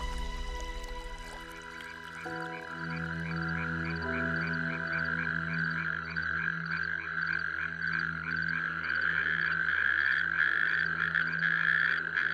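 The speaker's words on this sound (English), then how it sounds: "The natterjack toad." Natterjack toad calling in a moist beech forest, a sustained rapid rattling trill that holds steady and grows slightly louder, with no voices over it.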